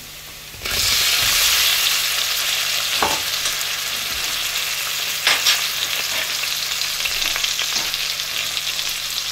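Potatoes for aloo gobi sizzle and fry in a pan with a loud, steady hiss that starts suddenly, plus a few soft stirring knocks.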